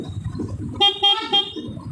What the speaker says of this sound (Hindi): ये देखो हमारे भाई साहब ने हॉर्न बजा दिया